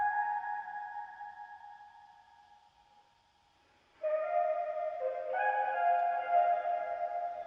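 A filtered, muffled vocal chop with reverb, sustained tones sliding between pitches, sounding distant and submerged, with no other sounds around it.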